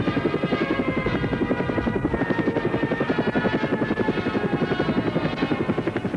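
Singapore air force military helicopter in flight, its rotor thudding in a loud, rapid, steady pulse with a constant engine drone throughout, close and with no voices.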